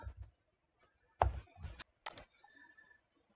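A few sharp computer mouse clicks while laying out text for a heat transfer vinyl t-shirt design, scattered and fairly quiet with short gaps between them, no talking.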